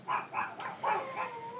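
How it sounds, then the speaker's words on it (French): Several dogs bark in short repeated yips and bow-wows, fairly close and loud, with a whining tail at the end, set off by a neighbour leaving. "les chiens aboient parce que j'ai le voisin qui s'en va"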